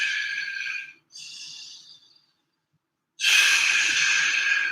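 Slow breathing during a yoga flow, close and breathy: two airy exhales separated by a short gap, a pause of silence, then a long, louder breath.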